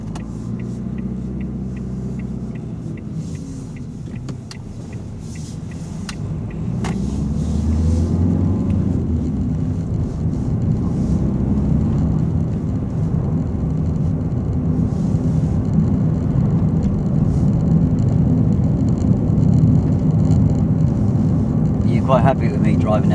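A car drives along a road during a driving lesson, its engine and road noise rumbling steadily and swelling louder partway through, while people talk inside the cabin.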